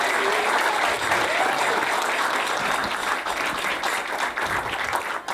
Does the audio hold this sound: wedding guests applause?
yes